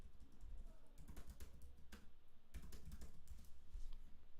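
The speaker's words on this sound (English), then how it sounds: "Now let's type it correctly." Rapid, quiet keystrokes clatter on a computer keyboard as a password is entered at a desk, with irregular bursts of taps over a low background hum.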